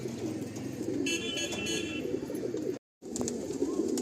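Andhra Kalanka pigeons coo in a low, continuous rolling murmur, close and moderately loud, with a brief high tonal toot partway through and a short dropout near the end.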